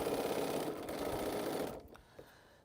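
A sewing machine stitches rows of a cotton quilt in a steady, close run that stops suddenly, leaving a quiet room with a few faint clicks.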